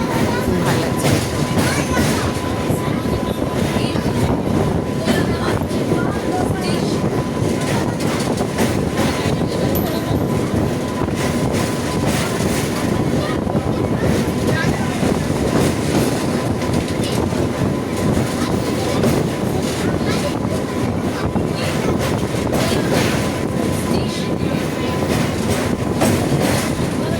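Moving train heard from inside a carriage near the Rupnarayan river in West Bengal, a loud, unbroken rumble with faint clickety-clack of wheels throughout and no voices.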